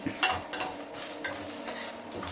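Mustard, cumin and fenugreek seeds tempering in a hot pan for homemade baby food, a soft crackle with a few sharp pops and light clinks of a spoon against the pan, close and fairly quiet.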